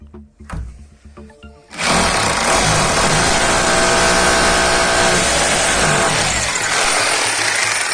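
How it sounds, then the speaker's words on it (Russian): After a couple of soft knocks, a power drill bursts into a loud, continuous whine and grinds steadily through material for several seconds while installing PVC panels. "Значит, берем, сверлим отверстие."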